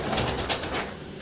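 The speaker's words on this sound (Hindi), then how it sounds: "ये खान साहब के ब्रीडर कबूतर है।" Breeder pigeons kept by a fancier cooing in soft, close, repeated throaty pulses, several low coos following one another in a quick rhythm with no talk over them.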